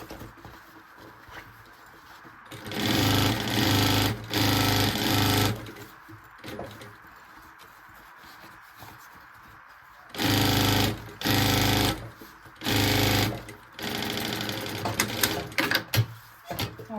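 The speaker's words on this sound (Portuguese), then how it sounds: "vou costurar bem pra dentro, porque eu cortei com excesso na lateral" A sewing machine stitches the side seam of a maternity bag in loud, rapid bursts: two runs early on, then three more near the end, with quiet pauses between them.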